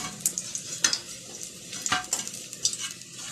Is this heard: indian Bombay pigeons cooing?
no